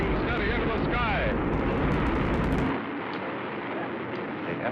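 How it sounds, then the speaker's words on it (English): An Atlas rocket carrying the MA-6 vehicle lifts off from the launch pad with a loud, rumbling, crackling roar that fills the sound, then eases to a thinner, more distant rumble, with a voice speaking over it. "The Atlas missile has lifted off from the pad and is rising steady into the sky."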